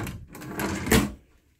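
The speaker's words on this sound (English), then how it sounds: "Drawers come out real good." Drawers in a Gulfstream motorhome coach slide out and shut, a quick rolling scrape followed by a soft knock, close and fairly loud, all within under two seconds with no talk.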